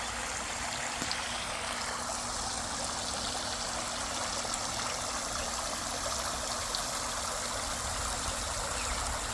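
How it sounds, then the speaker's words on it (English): Water from a backyard pool waterfall splashes and trickles steadily into the pool, a continuous close rushing wash with no pauses and no voices. "And got my waterfall."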